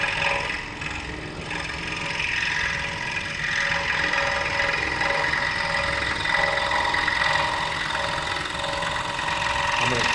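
A scroll saw cuts through wood with a continuous buzzing rasp, steady and fairly close for the whole stretch, with no talk over it.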